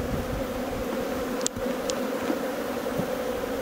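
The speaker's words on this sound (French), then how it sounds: "Pour les abeilles, elles vont venir manger le miel." Close, continuous buzzing of many honeybees in a vegetable garden with a steady drone, a couple of brief higher-pitched passes, and no voices.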